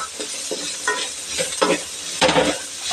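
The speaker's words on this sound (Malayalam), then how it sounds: "അപ്പോൾ ഇത് നല്ല പോലെ ഒന്ന് എല്ലാം ചേർത്ത് ഇളക്കി കൊടുക്കുക" A Kerala-style crab masala is stirred in a hot frying pan, with repeated scraping stirs in an uneven rhythm over a steady close sizzle, and nobody talking.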